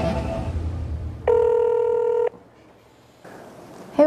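A telephone tone for an international call sounds as a steady electronic beep lasting about a second, followed by quieter line noise and a short second tone near the end, with no talk.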